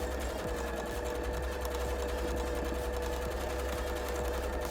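A sewing machine stitches cosplay fabric in one steady, continuous, close run with an even mechanical rhythm and no talk.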